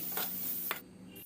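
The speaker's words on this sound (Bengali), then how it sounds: "এই কোকো পাউডারও ছানার সাথে খুব ভালো করে মিশিয়ে দিতে হবে।" Cocoa powder worked into chhena for choco sandesh, two soft scraping strokes of a spoon over a faint steady hiss before it cuts off abruptly.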